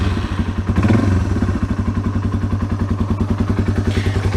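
A 2004 Yamaha XT225 motorcycle engine idles steadily just after an oil change, a close, loud, even thumping beat running throughout with no voices.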